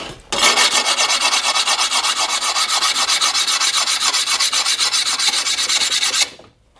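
A rub stone scrapes along the cut edge of a tile in a steady, close, rasping back-and-forth rhythm lasting about six seconds, then stops abruptly.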